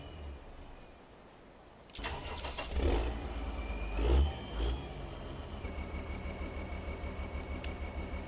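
A Deutz Fahr 7250TTV tractor in a game mod starts up outside: a crank and catch, deep engine rumble with a couple of revs, and a steady turbo whistle riding over the idle.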